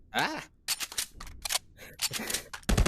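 Weapon reloading and rechambering in the VR shooter Contractors VR, heard as several short, sharp mechanical clacks and bursts spread unevenly across a few seconds, with one louder hit at the end.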